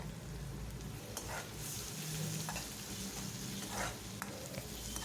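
Egg being stirred into chicken fried rice in a hot pan, a continuous close sizzle with repeated scraping and clattering stir strokes, no voices.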